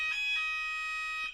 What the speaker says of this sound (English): Sorry, that's the fire alarm.